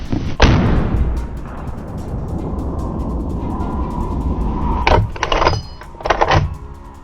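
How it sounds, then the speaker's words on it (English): A single sharp, loud rifle shot fired at a wild boar, followed by a long rumbling decay and then a few more distant cracking impacts. "I raised the rifle, aimed, and fired. A sharp shot."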